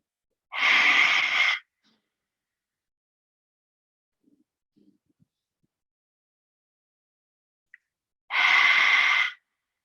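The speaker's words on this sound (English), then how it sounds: "breathing in is through the nostrils, breathing out is through the mouth. The friction sound is very light, slight constriction at the throat" Two slow breaths, each a nasal inhale then a mouth exhale with light throat constriction, give a soft, breathy friction hiss. They are separated by a long near-silent pause, close and alone.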